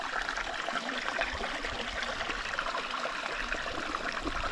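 Water trickles steadily from a backpacking squeeze filter in a soft, continuous hiss and patter, close and fairly quiet, with no voices.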